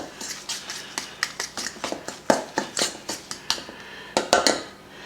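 A fork scrapes and taps rhythmically against a bowl while seafood stuffing of crab meat, shrimp and scallops is mixed for flounder, giving quick repeated clinks up close with no talking.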